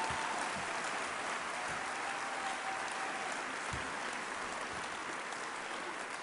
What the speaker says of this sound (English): just give them a big round of applause and some encouragement